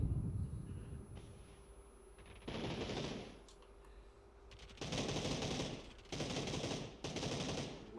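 Bursts of gunfire from the video game PUBG, played on console. Several rapid automatic volleys crackle loudly between quieter gaps, with no talk over them.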